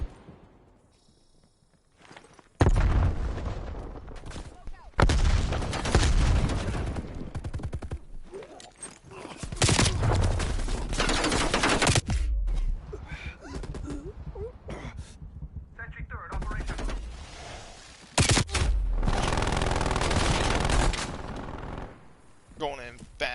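Loud bursts of gunfire from a zombies video game come in repeated clusters with short quiet gaps between them, sharp and close.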